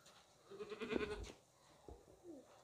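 A tall, heavy male goat bleats in a livestock market setting, one short wavering bleat at moderate distance followed by a fainter second call, with quiet background between.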